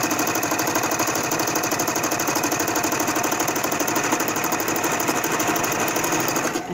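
Sewing machine double stitching a cloth face mask, a steady fast mechanical whir with rapid regular needle ticks running continuously at close range, then stopping abruptly at the end.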